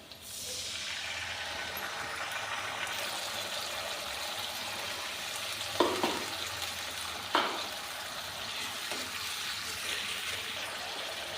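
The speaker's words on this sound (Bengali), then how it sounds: "পেঁয়াজটা বাদামি করে ভাজা হয়ে গেছে আদা রসুনের পেস্ট দিয়ে দিচ্ছি" Ginger garlic paste hitting browned onions in hot oil gives a soft, continuous sizzle with a couple of sharper hissing bursts partway through, fairly quiet and close, no speech.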